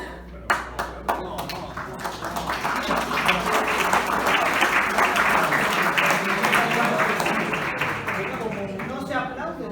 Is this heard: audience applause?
yes